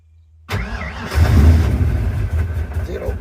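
A small engine with fuel delivery problems, newly fitted with a battery, cranks and turns over loudly and close by, sputtering unevenly as it struggles to catch.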